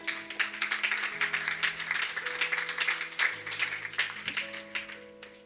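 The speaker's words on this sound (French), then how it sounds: "On acclame pour eux." Rhythmic applause from a church congregation during a French-language worship service, steady and fairly close, with sustained keyboard or organ chords held underneath.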